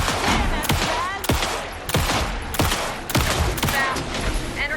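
Rapid bursts of gunfire in the video game Alan Wake 2 crack out repeatedly, about six sharp volleys in quick succession with a loud, synthetic punch.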